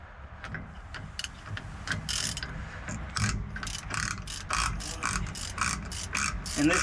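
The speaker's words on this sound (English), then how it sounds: "This takes a 1/2 inch wrench." A half-inch wrench ratchets on a rear brake nut of a 2000 Ford F350 Super Duty 7.3L dually, a rapid run of sharp metallic clicks that grows denser toward the end, close and clear with no talk.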